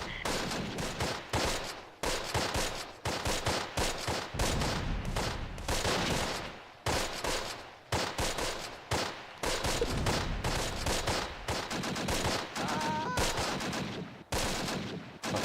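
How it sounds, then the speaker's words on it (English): Sustained combat from the Close Combat: Last Stand Arnhem game: dense bursts of gunfire and mortar blasts crackle almost without pause for the whole stretch, loud and close, with brief dips between volleys. "I think we've got some pretty accurate mortar fire."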